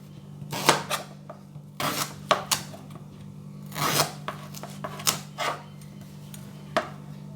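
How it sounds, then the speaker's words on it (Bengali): Raw green bananas being sliced with a knife in a home kitchen, a series of crisp, irregular cutting strokes against a board, close and fairly quiet over a steady low hum. "কাঁচা কলাগুলো কেটে নিচ্ছি এরকম করে"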